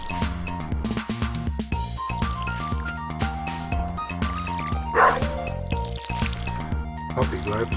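A puppy in the video game Stardew Valley yips and barks repeatedly over cheerful background music, with a few clinking game sounds mixed in.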